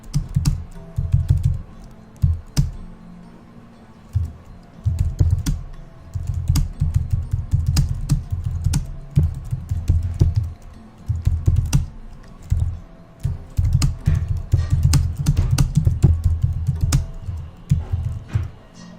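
Fingers type quickly on a computer keyboard close by, with dense bursts of clacking keystrokes broken by short pauses, steady and unaccompanied by speech.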